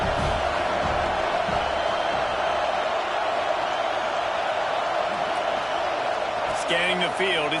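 A loud, steady roar from a football stadium crowd cheering on the home defense before a big third down, a dense wash of noise running throughout under play-by-play commentary.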